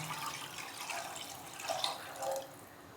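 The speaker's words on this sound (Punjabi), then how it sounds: "ਆਪਾਂ ਇੱਥੇ ਜਿੰਨਾ ਵੀ ਪਾਣੀ ਪਾਣਾ ਨਾ ਪਹਿਲਾਂ ਪਾਵਾਂਗੇ" Water is poured into a pan of spiced potato curry, giving a steady liquid splash and trickle for a few seconds in a home kitchen, with no talking.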